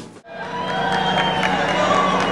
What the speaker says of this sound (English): That's people cheering for your arrival